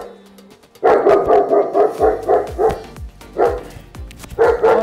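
A German shepherd barks loudly and repeatedly at close range, delivering rapid bursts of reactive barking in quick succession with short pauses between volleys.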